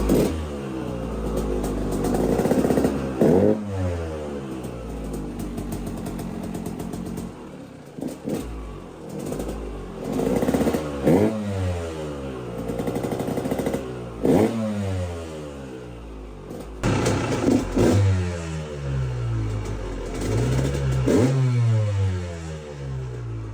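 A supermoto motorcycle engine is revved repeatedly on a test run, with rising and falling throttle sweeps over a rough idle, several sharp blips in succession, fairly close.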